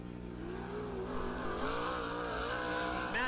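Sprint car engine screaming at high revs during time trials at Lernerville Speedway, a steady loud howl with rising and falling pitch as the car laps, with a brief surge near the end.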